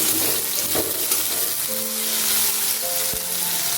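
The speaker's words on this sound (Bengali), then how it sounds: "পেঁয়াজটা লাল করে ভেজে নিচ্ছি" Chopped onions frying in hot oil in a pan for a Bengali potol chingri dish, a steady bright sizzle with a few stirring scrapes and clinks, close and loud, without talking.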